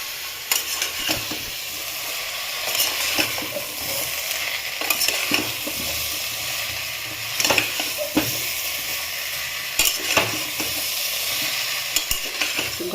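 Vegetables fry in a pan for a home-style chicken vegetable stew, a steady close sizzle and hiss broken by repeated scraping stirs of a spoon against the pan, with no voices.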